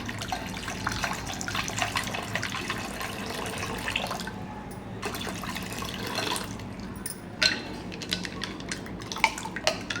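Cold water poured into a jaggery sherbet with ice and salt, a splashing, gurgling stream close by with clinks of the vessel, stopping and restarting a few times.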